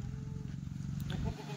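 Sheep or goats bleating at a livestock market in Karjat taluka, Ahilyanagar district, a short close cry over a steady crowd murmur.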